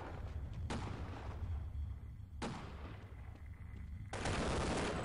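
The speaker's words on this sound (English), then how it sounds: "Someone's shooting at me." Half-Life gunfire cracks out in three loud, separate bursts spaced a second or two apart, each one a sharp broadband blast that fades into a steady low background hum.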